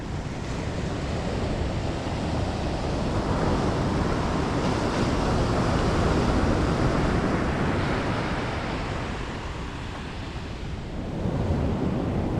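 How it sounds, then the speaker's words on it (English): Loud, continuous surf rolling in on Usal Beach along the Lost Coast, a thick roar of breaking waves that rises and eases slowly, with wind buffeting the microphone and no talking. "This is the Usal Beach."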